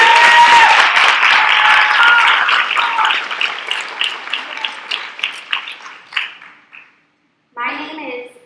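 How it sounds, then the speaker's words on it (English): An audience at a United Nations youth-led briefing applauds performer Camille Sophia with a lively burst of clapping that thins into scattered claps and fades to silence, after which a voice begins speaking. "Please give a round of applause for our performer"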